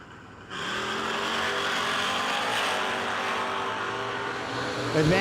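A 1971 Dodge Challenger and another drag racing car launch off the line at a no-delay Mopar drag race, engines erupting into a loud sustained roar after a brief quieter idle, holding steady and close for several seconds.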